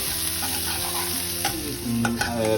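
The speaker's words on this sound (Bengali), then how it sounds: "পেঁয়াজ কুচি মিক্স করে দিয়েছি এবং সেগুলোকে ভালো করে ভেজে নিচ্ছি" Chopped onions fry with spices in a pan for a Bengali chicken and potato curry, a close, continuous sizzle with stirring scrapes and light crackles, no voices.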